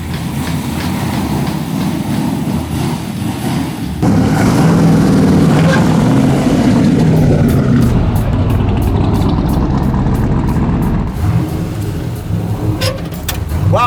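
A 1000whp twin-turbo 1967 Chevelle with sequential shift rolls off with a loud, rough low engine rumble that grows stronger, clunks and rattles mixed in under heavy road and cabin noise.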